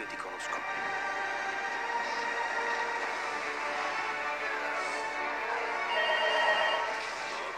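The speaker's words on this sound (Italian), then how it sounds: "Telefono, telefono!" A telephone rings in a Star Wars trailer, a bright, sustained trilling tone that carries throughout and grows slightly louder near the end, with faint voices underneath.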